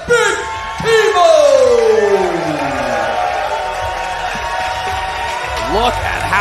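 A crowd at a sumo championship event in New Jersey cheers and whoops loudly and steadily, with excited shouts and clapping, under a commentator's voice.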